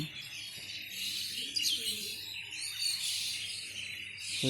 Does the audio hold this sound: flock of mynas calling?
yes